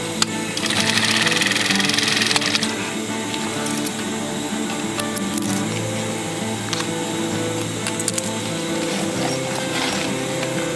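A sewing machine double-stitches the handles of a boxy fabric bag. Its rapid mechanical clatter runs close and continuous throughout, with a brighter, busier stretch at the start.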